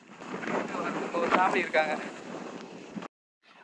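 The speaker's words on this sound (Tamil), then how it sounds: "இங்கே பார்த்தீங்கனாலே தெரியும் காற்று எவ்வளோ பயங்கரமாக அடிச்சிட்டு இருக்குன்னு." Strong wind buffets the microphone at a hilltop viewpoint in Kerala, a loud rushing roar under a person talking, then cutting off abruptly near the end.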